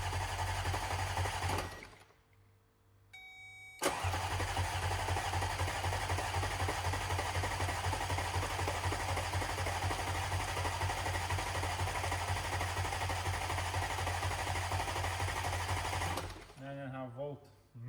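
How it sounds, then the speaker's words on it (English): An Audi S5 B8 engine cranks and then starts. A brief crank and pause come first, then a loud, dense, rapid running roar holds steady for about twelve seconds before dropping away to quiet. "Before we start the engine, we will crank it a few times to build the oil pressure up"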